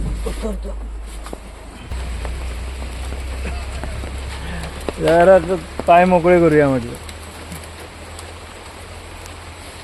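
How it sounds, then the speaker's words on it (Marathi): Heavy rain pours outdoors beside a roadside stop where many trucks are lined up, a steady wash of hiss throughout while someone talks briefly in the middle. "भरपूर पाऊस पडतोय आणि बऱ्याच गाड्या लागल्या आहेत तिथे"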